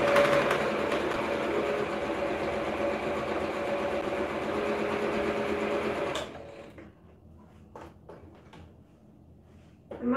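An old sewing machine stitches fabric fast and steady up close, its rapid mechanical whirring lasting several seconds before stopping, leaving a few faint clicks and handling sounds.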